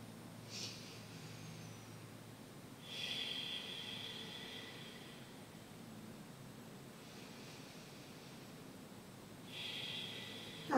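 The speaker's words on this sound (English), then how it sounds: "Take 3 deep breaths here" Slow, deep yoga breaths during a morning session come in soft, airy inhales and exhales, a few spaced swells of breath noise over a quiet, faint hiss.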